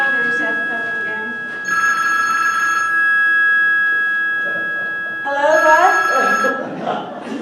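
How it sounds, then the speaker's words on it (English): A telephone rings on stage during an amateur drama club play, sounding in two long, loud bell-like bursts separated by a pause, with voices speaking faintly in between and around the rings. "Oh, there's that phone again."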